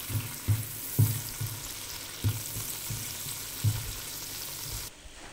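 Bacon strips sweat in a pot with a soft, continuous sizzle, broken every second or so by dull knocks of stirring.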